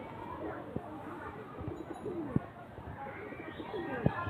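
Pigeons kept for sale, including squabs, coo softly in a loft, with several brief separate calls against a steady murmur of background noise.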